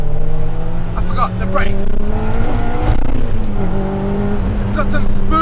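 A Honda Civic Type R EP3 with a K20 engine revs hard toward its 8,500 RPM limit, a loud, close, rising and falling engine whine that climbs and drops between gears while someone talks over it.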